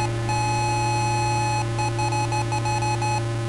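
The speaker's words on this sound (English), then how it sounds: "you can also honk the horn" Repeated electronic beeps sound in a quick irregular pattern over a steady synthetic drone, a bus horn in the Sega Genesis game CrazyBus, with no voices.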